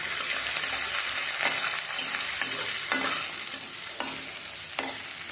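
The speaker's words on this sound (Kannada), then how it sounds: "ಬೆಳ್ಳುಳ್ಳಿ ಹಾಕಿ ಎಲ್ಲ ತಿರುಗಬೇಕು ನೋಡಿ" Garlic sizzles in hot oil in a pan alongside mustard seeds, cumin and onion, with a steady frying hiss broken by several sharp scrapes and taps of a spoon stirring against the pan, close and without talk.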